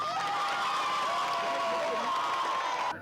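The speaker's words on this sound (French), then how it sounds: "on applaudit encore pour Kader" A crowd at a jumping contest cheers and shouts for the winner, Kader, with sustained raised voices and whoops, a faint scatter of clapping underneath.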